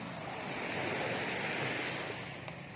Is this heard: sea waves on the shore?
yes